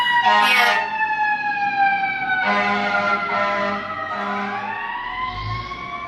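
A loud wailing siren with a falling then rising pitch sweeps past, close and dominant, with an engine rumble underneath.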